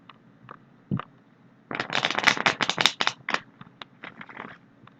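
A deck of reading cards is riffled and shuffled up close, with a couple of light taps, then a dense burst of rapid flicking and crackling that thins into scattered card slaps, no talking.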